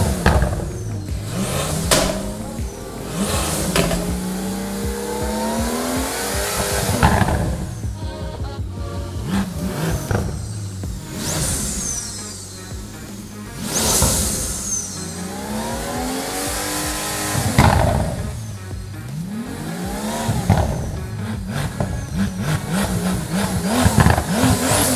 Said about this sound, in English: we're gonna leave you with a cinematic symphony celebrating this engine's incredible exhaust note